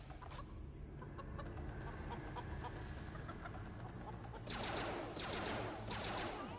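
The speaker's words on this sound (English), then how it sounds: "God, these chickens are freaking crazy, man." Chickens in the Family Guy: Back to the Multiverse video game cluck and squawk over rumbling game sound, with a louder burst of frantic flapping and clucking near the end.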